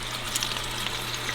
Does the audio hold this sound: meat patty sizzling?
yes